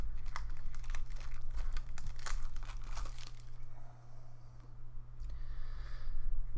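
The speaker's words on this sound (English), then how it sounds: "try and get a little bit up and then just kind of try to rip it sideways without, of course, ruining the cards" Bakugan card pack wrapper being torn open and crinkled, a dense run of crisp tearing and crumpling close up over steady low hum, then quieter handling.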